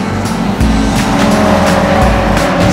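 A race car at an SCCA event at Laguna Seca in Northern California roars past loudly. The engine note rises and shifts through gears, and there is a hint of tire noise. No one speaks.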